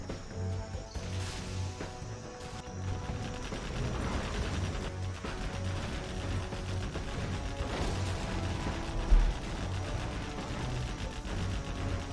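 Rapid artillery and gunfire bursts crackle through a real-time strategy match, a steady barrage of distant booms and pops layered under a busy battle din with one sharper blast near the end.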